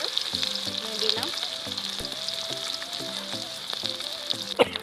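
Dried chillies and ginger-garlic paste fry in a pan with a steady bright sizzle and crackle, while utensils clink and scrape against the pan now and then.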